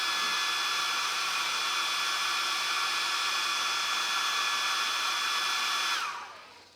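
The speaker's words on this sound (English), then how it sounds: "You take a hair dryer, it just speeds up the process" A hair dryer drying paint on handmade crankbait fishing lures blows with a steady, loud whooshing hum that holds constant, then winds down and fades out near the end.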